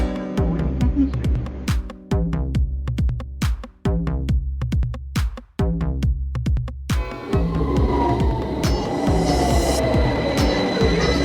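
A train passes through a station in Thailand near Udon Thani and Nong Khai, with a steady run of loud rhythmic wheel clicks over a deep rumble. Rising squeals and hiss build toward the end.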